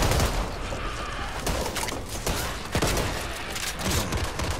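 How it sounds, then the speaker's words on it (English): SMG gunfire in the video game Back 4 Blood, a dense, continuous fusillade of rapid shots filling the whole stretch, loud and close with little letup. "I'm about to set off this SMG thing."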